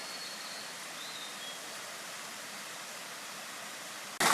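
A river flowing through Japanese mountain woods makes a steady, even rush of water, moderately close and unbroken, with no voices.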